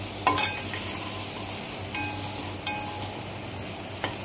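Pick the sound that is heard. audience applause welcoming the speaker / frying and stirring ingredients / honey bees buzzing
frying and stirring ingredients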